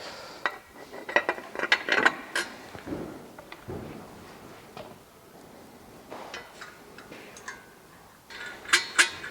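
A ratchet wrench tightening bolts on a Detroit 12.7 series exhaust manifold with heat shield, irregular bursts of metallic clicking with short pauses and a few tool clanks, close up.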